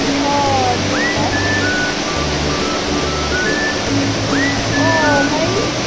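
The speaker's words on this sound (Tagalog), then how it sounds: "Ayan ang waterfall." Water pours steadily at a waterfall in Hong Kong Park, a loud continuous broadband rush with faint bird chirps and a low repeating tone mixed into the wash.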